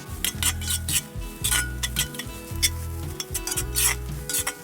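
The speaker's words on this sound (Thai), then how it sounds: "แล้วก็ผัดให้ผักกาดดองของเราสุกน้ำมันนะครับ" Pickled mustard greens sizzle in hot oil while a utensil scrapes and stirs them around a pan in repeated strokes, close up.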